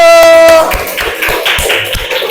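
A classroom of students claps for the first group after a steady tone fades; scattered, uneven claps of moderate loudness continue for a couple of seconds.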